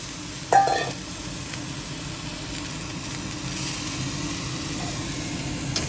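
Blanched beans stir-frying with shrimp paste in a hot pan, with mortar-rinsing water just added and the heat turned up, give a steady, even sizzle. One sharp clatter of a utensil comes near the start.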